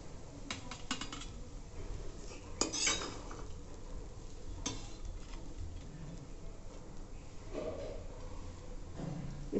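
Poha is served onto an ordinary plate with scattered light clinks and scrapes of a spoon against the dish over a soft background hiss, quiet and close.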